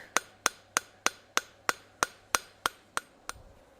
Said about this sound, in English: I want to hammer down hard, nice and hard.